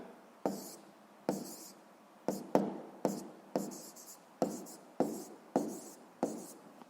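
A pen writing on paper, sharp scratchy strokes in a regular series of about a dozen close, distinct bursts, each fading quickly, with no talk over them.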